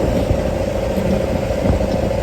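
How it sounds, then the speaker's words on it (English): A sailboat's auxiliary motor hums continuously with a low rumbling clatter, fairly loud and unchanging, no voices. "You can hear the motor in the background."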